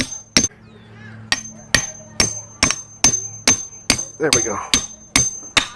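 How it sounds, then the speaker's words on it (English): Hammer blows from a small trim hammer splitting a pig's breastbone for roasting, about a dozen sharp, loud strikes in a steady rhythm, close by, with a brief voice partway through. "So what we're gonna do is take a hammer."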